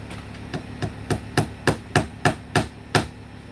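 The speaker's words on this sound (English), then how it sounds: "I need this ball pen hammer again. So I can get this up in there a little better." A ball-peen hammer strikes repeatedly while a ceiling is built in a house under construction, about ten sharp, evenly spaced blows that grow louder, close by and with no talking.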